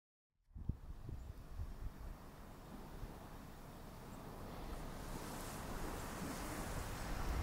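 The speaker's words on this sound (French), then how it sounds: "Réveil au doux son des vagues, clapotant sur le rivage" Waves lapping on a beach of the Mexican peninsula, a steady broadband wash that builds slightly over time, with some wind in the background and no voices.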